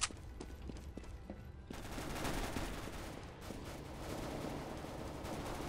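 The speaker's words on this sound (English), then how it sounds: "Lots of fire. Shots everywhere." Rapid bursts of gunfire from a Counter-Strike match crackle in quick succession, first sharp separate shots, then a dense, continuous volley of fire.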